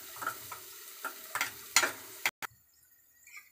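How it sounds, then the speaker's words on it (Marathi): Onion and tomato shallow-fry in a pan for quick Maggi noodles, with soft bursts of sizzling and a few stirring scrapes that stop abruptly, leaving near silence after. "त्यावर आपण शॅलो फ्राय करून घेऊया आपल्या कांदा आणि टोमॅटोला"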